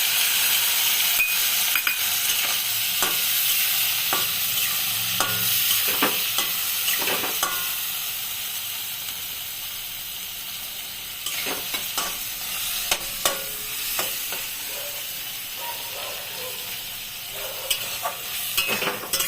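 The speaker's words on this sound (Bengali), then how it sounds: "পোস্ত দিয়ে একটু নাড়াচাড়া করবো, কাঁচা পোস্তের গন্ধটা যেন না থাকে।" Green beans and potatoes with poppy seed paste and chilli paste are stirred in an uncovered pan, a sizzle that fades from loud to softer while scraping utensil strokes grow more frequent, close by and without talk.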